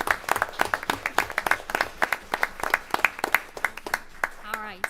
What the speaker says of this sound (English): give them a round of applause because they work really hard